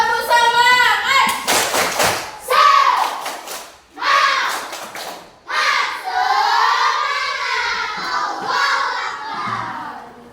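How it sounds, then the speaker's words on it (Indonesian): A class of children in an Indonesian classroom performs a rhythmic spirit clap, bursts of clapping mixed with loud shouted chanting voices that rise and fall in a pattern. "Cobalah tepuk semangat lagi."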